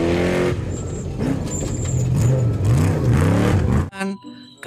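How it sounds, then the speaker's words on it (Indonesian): A rally car engine revs in rising, falling sweeps for about four seconds, loud and close, then cuts off abruptly and a brief different tone follows. "Wow, mobil rally teman-teman."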